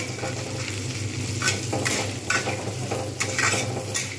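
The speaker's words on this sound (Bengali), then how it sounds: "পেঁয়াজ টমেটো এবং কাঁচা লঙ্কা যেগুলো আমি রেখে দিয়েছিলাম সবকটা আমি একসঙ্গে দিয়ে দিলাম এগুলো আমি কিন্তু ভালোভাবে ভাজতে থাকবো" Chopped onion, tomato and green chilli fry together in a pan with a continuous soft sizzle, broken by several distinct stirring scrapes of a utensil against the pan.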